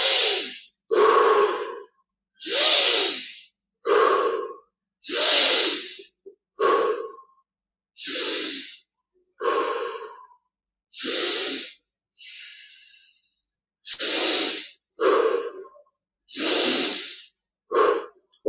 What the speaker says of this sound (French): 10 respirations encore pour prendre plus d'air à chaque inspire.